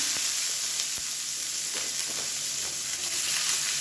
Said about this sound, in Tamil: இப்போ இதில் ஒரு கைப்பிடி பொடியாக நறுக்கின வெங்காயம் சேர்த்துக்கலாம்